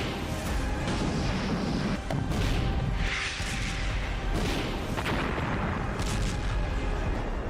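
Artillery shells fired in the war around Bakhmut, a dense, rumbling barrage of heavy booms and roaring blasts blending into continuous loud low thunder with no clear gaps.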